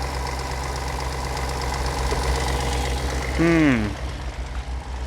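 A car idles at an Australian auction with a steady low engine rumble and a ticking, tappet-like knock running through it; a brief rising whine swells near the end.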